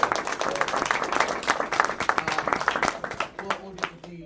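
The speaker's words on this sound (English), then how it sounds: "So let's give her a big round of applause." Audience at a Ghostbusters costuming panel giving a round of applause, crisp individual claps from a modest crowd close by, with voices talking over the clapping as it thins out near the end.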